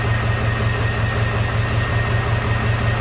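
A 2001 Ford F550 with the 7.3 engine, running with a no-power fault and warning light on, idles loud and close with a steady low diesel rumble and an even pulsing beat throughout.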